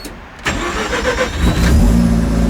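A freshly rebuilt Mazda 13B rotary engine fires up after a quiet moment, then settles into a loud, steady run, close by and alone, with the note building slightly toward the end.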